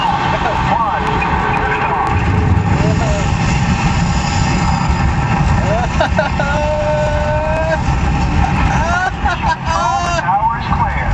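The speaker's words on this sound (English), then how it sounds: "We have main engine start." Simulated rocket main engine start on the Mission: Space ride, a loud steady low rumble and roar that fills the cabin for the whole stretch, with voices and chirping electronic tones layered over it.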